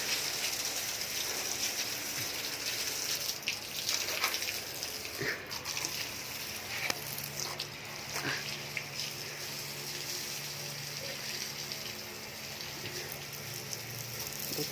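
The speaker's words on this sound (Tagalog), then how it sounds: "Buti na lang malakas ang tubig." A strong stream of water rinses animal cages outdoors, draining straight into a canal, a steady hissing gush with occasional splashes and drips, close and continuous.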